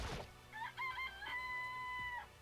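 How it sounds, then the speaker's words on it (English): A chicken in the Danganronpa: Trigger Happy Havoc video game gives a drawn-out crowing, rooster-like call after a brief opening sound, clear and fairly close, heard on its own without talk. "Oh, hi, it's a chicken."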